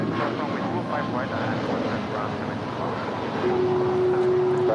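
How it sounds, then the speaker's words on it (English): Air Canada Boeing 737 MAX 8 departing LAX for Vancouver: a steady, broad jet engine roar held throughout, swelling slightly near the end, with a thin tonal whine appearing late; voices are heard faintly in the mix. "This departure is Air Canada 557 departing to Vancouver. It's a 737 MAX 8."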